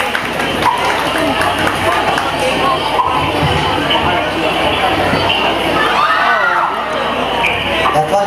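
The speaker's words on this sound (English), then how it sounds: "Let's give a round of applause to the radio man" A crowd at a foundation day event for a small unit tactics demonstration claps and cheers for a performer, with steady, busy applause mixed with shouts and voices throughout, fairly loud and close.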